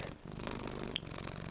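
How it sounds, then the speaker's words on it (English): A Ragdoll cat purrs steadily and softly up close, a low continuous rumble with one brief sharp click partway through and no talk. "as soon as you put him down he starts purring"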